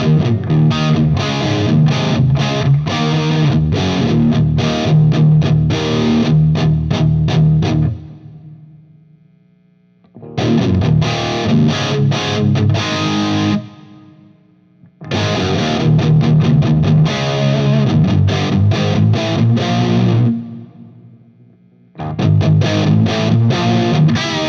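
Electric guitar played through a Deliverance Synergy amp module, heavily distorted and loud, with chugging riffs in several bursts separated by brief pauses and ringing decays, no voices.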